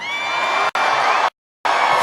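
A large crowd at a Donald Trump campaign rally in Des Moines, Iowa cheers and whoops loudly, the roar cut by two brief silent gaps before resuming.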